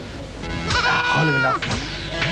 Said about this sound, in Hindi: बकरी की नहीं, बकरे की आवाज है